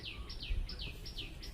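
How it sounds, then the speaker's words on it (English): Bird chirps repeat in quick, regular high-pitched bursts, several short descending notes in a steady rhythm over a faint low rumble. "I heard some birds in the background"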